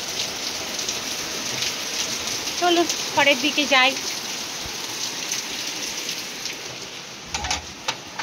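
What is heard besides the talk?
heavy rain falling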